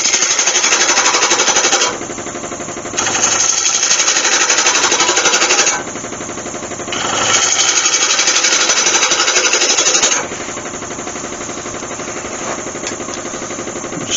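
A woodturning lathe cuts a red cedar goblet, with a gouge producing harsh, rapid chattering bursts that stop and restart several times over a steady spinning hum.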